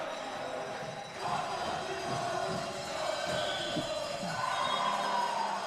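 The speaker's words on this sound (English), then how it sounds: "The crowd already celebrating." Spectators at a women's basketball World Cup final between Switzerland and Italy cheer and roar in the closing seconds, a broad sustained crowd swell in an indoor arena, with faint play sounds beneath.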